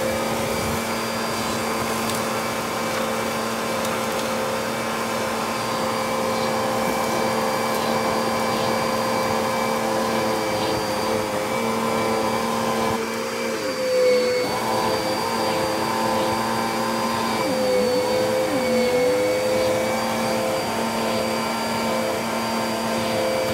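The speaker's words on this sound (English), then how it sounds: "Now we are going to be doing the suction to the Dirt Devil." Dirt Devil vacuum cleaner running at steady suction, a loud continuous whine and roar close by, with brief dips in pitch as the airflow changes partway through.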